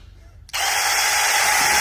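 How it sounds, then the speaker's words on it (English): Power drill boring a hole in a pipe with a 1/8-inch bit during a radon fan system install, a steady close whine starting abruptly after a brief quiet moment and running continuously to the end. "You're going to drill your hole in the pipe right here."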